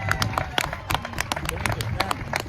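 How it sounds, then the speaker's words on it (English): A crowd at the 2022 hot pepper eating contest in Easton, Pennsylvania applauds contestant Jen with scattered, uneven claps and cheers, mixed with chattering voices and background talk. "Give Jen a big round of applause."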